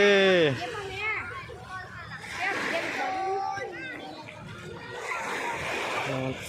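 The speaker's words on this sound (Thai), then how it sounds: "เล่นน้ำทะเลพี่น้องเล่นกันครับ" People splash and play in the sea at Bang Saen beach in Thailand, with children's shouts, laughter and lively voices over steady water splashing throughout.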